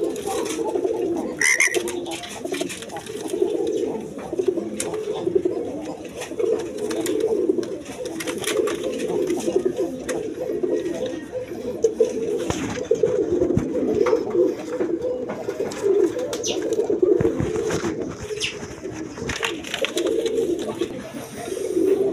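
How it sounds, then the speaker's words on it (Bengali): Giribaz high-flying pigeons coo steadily in a soft, continuous, layered murmur from a nearby pair or flock, with no voices over them. "এখানে এক পেয়ার কবুতর আছে দেখেন, গিরিবাজ কবুতর, হাই ফ্লাইং কবুতর"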